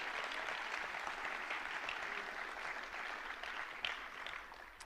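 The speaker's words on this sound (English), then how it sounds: "So can we give a round of applause for Josh?" A football awards-night audience applauds a player with an even, steady patter of clapping that sounds fairly distant and soft and carries on throughout.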